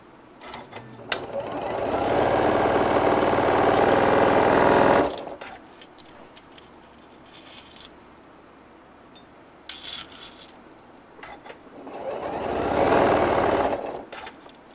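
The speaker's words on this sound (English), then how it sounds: "And then I'm going to sew from one edge all the way up to the top, a 1/2 inch" A sewing machine runs in two sustained bursts while stitching the seam of a brim hat, a steady loud whir for several seconds, then a quieter pause of handling before a second shorter run.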